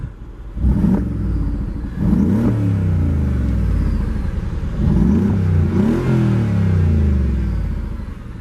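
A 2013 Mercedes-Benz G63 AMG engine is revved up loudly several times, each rev rising and falling in pitch over a steady deep idle rumble, heard close by with no talking.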